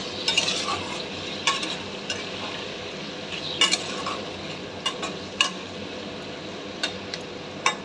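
Potato pieces fry lightly in oil seasoned with turmeric, Kashmiri chili and salt, a steady low sizzle punctuated by regular clinks and scrapes of a spoon stirring against the pan.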